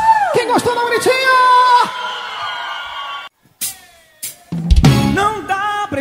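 Crowd at a live forró show in Serra Talhada shouting, whooping and cheering loudly, mixed with an amplified voice and sustained calls, a brief drop, then another burst of yelling.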